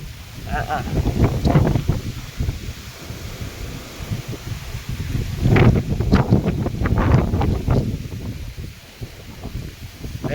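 Strong gusty wind of a windstorm buffets the microphone in loud, uneven rushes that rise and fall across the clip.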